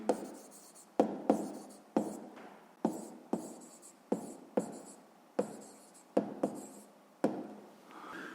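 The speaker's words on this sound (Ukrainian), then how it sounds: "Гаразд, записуємо ну тоді відповідь." A pen or chalk writes out a math answer in a rhythmic series of sharp taps and scratchy strokes, close up, with brief pauses between words.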